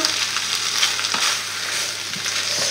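Onions and spinach fry in oil in a pan, a dense, close, steady sizzle with a few faint stirring scrapes, no voices.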